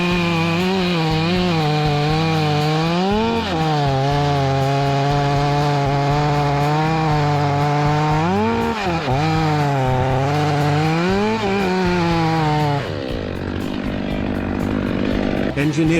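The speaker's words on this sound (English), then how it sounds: "Starting with the Skihel MS500i, a chainsaw that transcends conventional machinery" A Stihl MS500i fuel-injected chainsaw cutting a tree runs loud and steady close by, its engine note rising and falling as it bogs into the wood, then easing off near the end; a voice talks over it throughout.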